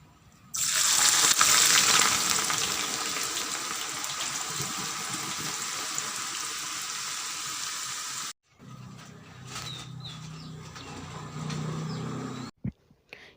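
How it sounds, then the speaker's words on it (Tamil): Thin slices deep fry in oil over a medium flame until golden brown, with a loud, dense, even sizzle that cuts off suddenly. A quieter stretch of kitchen noise follows. "இந்த மாதிரி தின் ஸ்லைஸாக கட் பண்ணி இதை வந்து டீப் ஃப்ரை பண்ணிக்கொள்ள வேணும்"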